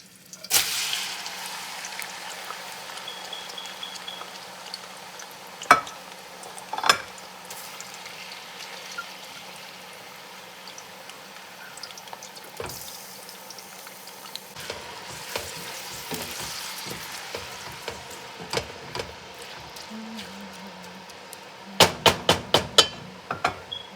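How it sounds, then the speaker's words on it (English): Onions sizzle and crackle steadily in a hot pan, with occasional clanks and scraping of a utensil and a few sharp knocks near the end. "Now I'm pouring the onions in."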